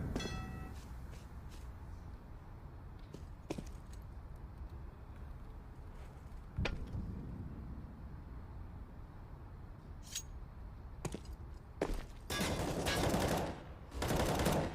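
AK rifle fire in a Counter-Strike match on the Overpass map, with scattered sharp single shots and a dense burst of rapid fire near the end over a low, steady background.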